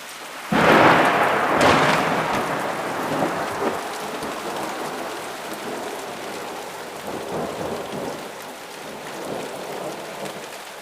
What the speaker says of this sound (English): I think that's what you call rolling thunder.